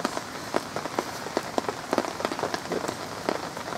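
Rain patters onto a lake beside a carp fishing swim, a soft steady drizzle of close, irregular drop hits with no voices.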